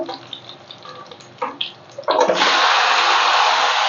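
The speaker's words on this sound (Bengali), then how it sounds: "দিয়ে দিলাম মাংসটা।" Chicken pieces for a papaya-chicken dish go into a hot cooking pot: quiet kitchen clatter first, then about two seconds in a sudden loud, steady sizzle that carries on to the end.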